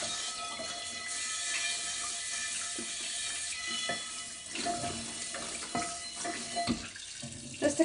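Steady running water sprays into a cast iron pan, hissing and splashing against its hard surface, with a few metallic clinks and knocks near the end.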